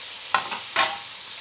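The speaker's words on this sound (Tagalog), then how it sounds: "Haluin lang natin" Tomatoes, carrots and pepperoni stirred and frying in a pan for a chicken biryani, with two short scraping stirs over a steady soft sizzle, close and fairly quiet.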